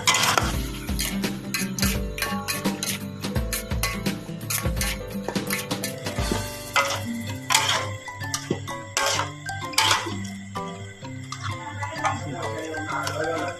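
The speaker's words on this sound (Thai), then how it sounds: "ผัดให้เข้ากันเลยนะ" Seasoned food being stir-fried in a pan, with a busy run of scraping, tapping and clattering of a spatula against the pan over a light sizzle, close and continuous.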